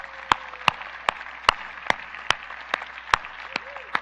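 Sparse, slow clapping from a small church congregation for the pastor, a handful of separate claps spaced about half a second apart, fairly faint with a soft murmur underneath.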